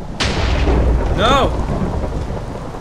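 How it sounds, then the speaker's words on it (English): In Minecraft, steady rain hisses throughout, and a sharp crack of thunder at the start rolls into a rumble. There is a brief vocal sound partway through. "Is it really raining?"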